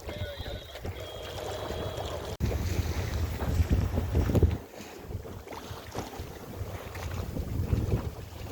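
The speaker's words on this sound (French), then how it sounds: "Le vent s'est levé" Wind buffets and roars across the microphone, with gusts swelling and easing over the wash of water around a moving sailboat.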